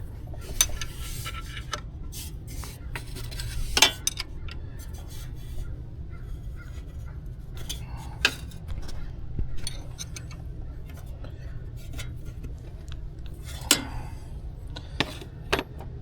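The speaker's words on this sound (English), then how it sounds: "let's tighten that up. 12mm wrench." A 12mm wrench tightens a bolt on a Honda Accord, giving sparse, faint metallic clinks and ticks over a steady low hum, with no voices.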